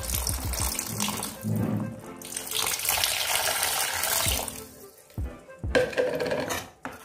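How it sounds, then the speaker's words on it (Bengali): Water poured into a cooking pot of boiled potatoes, heard as a splashing, gurgling pour in bursts with a short pause and a clatter of the pot in between. "আমি এতে আরো কিছুটা জল দেব।"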